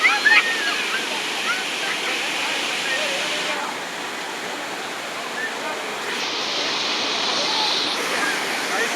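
Suruli Falls cascading from above, a steady broadband roar of falling water filling the scene, loud and continuous with slight swells in intensity throughout.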